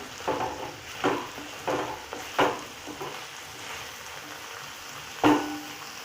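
Chicken liver frying in hot oil in a pan, a steady sizzle broken by several soft stirring scrapes spaced a second or so apart, close and moderately loud with no talking.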